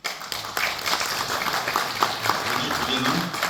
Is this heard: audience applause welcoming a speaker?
yes